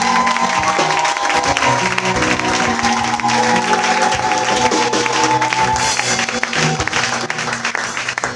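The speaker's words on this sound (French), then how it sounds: "Est-ce qu'on peut se lever pour acclamer le roi des rois?" A church congregation stands and applauds in steady, dense clapping that runs unbroken throughout, mixed with music and some crowd voices.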